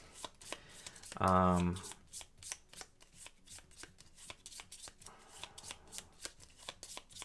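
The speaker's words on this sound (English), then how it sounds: "I can go ahead and shuffle up the AI deck so it's ready to go" A deck of cards for the Gaia Project solo AI is riffled in one loud, dense burst of fluttering snaps lasting about half a second, followed by faint clicks and handling sounds while a voice speaks briefly.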